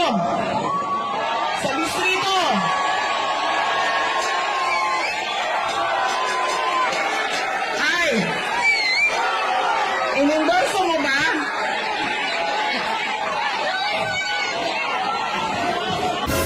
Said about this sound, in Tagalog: Focus kayo doon sa sumisigaw ng Marcos Marcos Marcos